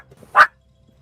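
A single short, sharp bark from a dog named Lucy, loud and close against a quiet room.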